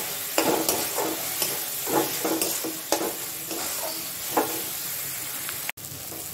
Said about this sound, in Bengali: এই মশলাটা আমি ভালো করে কষিয়ে নেব।